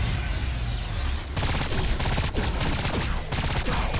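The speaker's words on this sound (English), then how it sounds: "Imagine getting headshotted with a burst fire laser rifle." Rapid bursts of laser rifle fire from the shooter game Agents of Mayhem crackle continuously, with dense repeated volleys and layered explosive impacts throughout.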